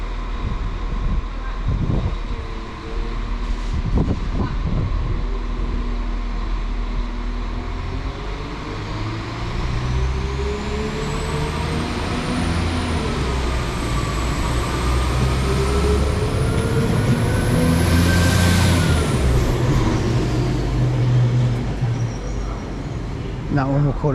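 A class 196 train working a service to Leamington Spa gives a low engine rumble and a traction whine that climbs and bends in pitch as it pulls away, with a few knocks near the start.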